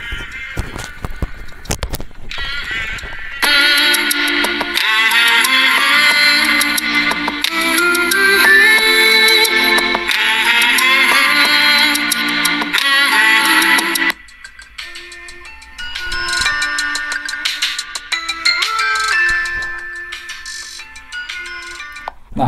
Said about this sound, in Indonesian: Ini pertama kita dengerin musik yang stereo untuk ngetes apakah ini speakernya itu mono atau stereo